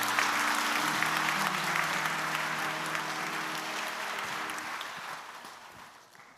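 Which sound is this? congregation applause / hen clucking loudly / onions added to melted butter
congregation applause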